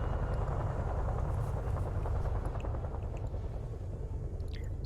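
A Chinook helicopter in a Vietnam-era video game thumps with a low rhythmic rotor beat and rumbling drone, steady and moderately distant under game ambience.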